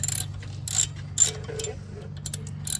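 Ratchet clicks while a bolt is cranked in on the front suspension of a 1997 Chevrolet Tahoe, a series of quick, close mechanical ticks in irregular bursts over a low steady hum.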